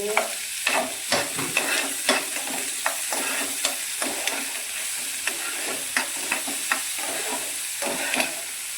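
Chopped onions and tomatoes fry in ghee in a hot pan with a steady sizzle. Repeated spatula scrapes and stirring knocks punctuate the frying at close range.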